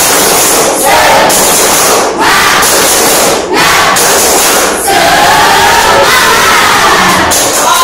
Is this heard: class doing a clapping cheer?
yes